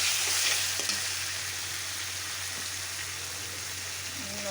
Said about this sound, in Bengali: আদাটা এখন ভালো করে ভাজা ভাজা করবো